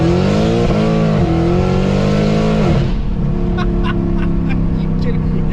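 Mercedes W204 C63 AMG fitted with long-tube headers and straight pipes revs close by with a deep, harmonic growl that rises and falls, then settles to a rumbling idle with crackles, while people talk over it.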